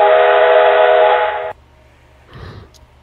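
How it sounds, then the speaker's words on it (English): Lionel model train whistle with a 425 whistle unit, a loud steady chuffing steam-style whistle tone held for about a second and a half before cutting off abruptly, followed by a faint soft rustle. "It has the 425 whistle on it."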